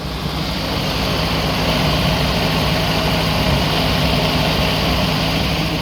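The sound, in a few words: yellow truck engine idling with slight ticking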